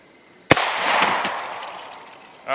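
A single sharp 9mm gunshot from a Glock 19 firing Hornady 115-grain XTP rounds, a loud crack with a lingering outdoor decay trailing off over about two seconds, no talk.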